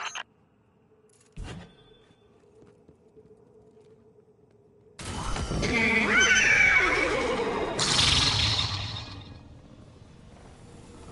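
A horse in a video game neighs loudly and at length, a shrill whinny with a second burst, after quiet clicks and a low hum.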